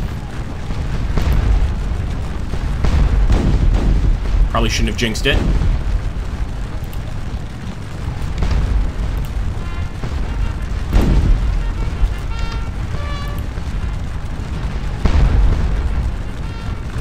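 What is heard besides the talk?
cannon fire in a Battle of Waterloo strategy video game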